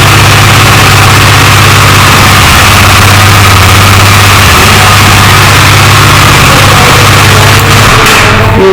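A Husqvarna motorcycle engine idles steadily and loud up close, a constant low throbbing drone that holds for the whole stretch with no voices over it.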